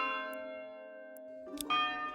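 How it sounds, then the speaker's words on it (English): A church bell tolls in the medieval city builder Manor Lords, its long ringing tones sustained and layered, with a brighter second strike near the end, loud and clear with no talk. "oh, we can put the bell sound"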